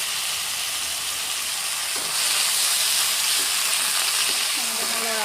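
Jatilau gourd peels sizzle in hot oil with onion, a steady close crackle that swells as the peels go in, with light scraping from stirring in the pan.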